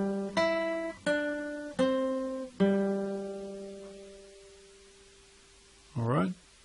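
Four slow, clean single guitar notes plucked one after another in the opening of the Jingle Bells verse, each ringing out and the last sustaining and fading, followed by a brief voice at the end.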